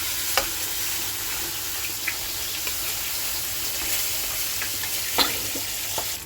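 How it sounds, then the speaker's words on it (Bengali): Ground spices and turmeric frying with potatoes in oil in a pan, a steady soft sizzle broken by occasional light scrapes and clicks of a spoon stirring, with no talking. "এবার মশলাটাকে আমি কষিয়ে নেব সুন্দর করে"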